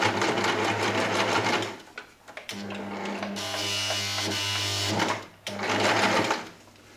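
A sewing machine stitches a hidden zipper in fast, steady runs of whirring, stopping briefly between runs and then starting again.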